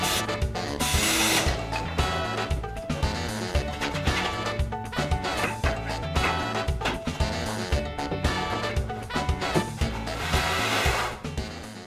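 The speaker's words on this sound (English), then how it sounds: "Now I just have to screw the wheels on" Power drill driving screws to fasten wheels onto a DIY mobile circular table saw frame, a steady close whine of the motor running almost continuously with small dips in pitch and level.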